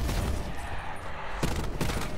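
Loud, dense burst of explosive gunfire from an upgraded shotgun that fires grenade-like rounds in a Call of Duty: Black Ops 4 zombies map, rapid blasts close up with no speech.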